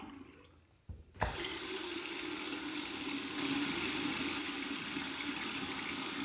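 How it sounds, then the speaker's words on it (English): Cold water runs steadily from a tap, starting abruptly after a short quiet lead-in and then flowing loud and even. "Let's go ahead and put that under cold water"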